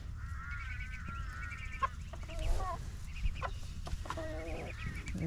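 A flock of hens clucks and squawks in repeated, close bursts while a rooster mingles with newly arrived birds on a farm, the calls overlapping and rising and falling in irregular rhythm.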